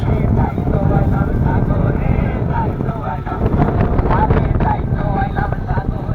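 A boat cruises on Kaptai Lake carrying a group of school students, its engine and wind noise forming a steady, loud rumble throughout with voices mixed in.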